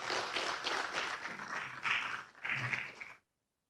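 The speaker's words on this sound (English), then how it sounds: "Another round of applause for the ambassador." An audience applauds an ambassador at a climate and energy capacity-building project launch, with steady dense clapping for about three seconds that swells twice before cutting off abruptly into silence.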